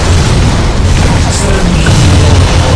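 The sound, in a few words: weapons firing and explosions in Dawn of War Soulstorm video game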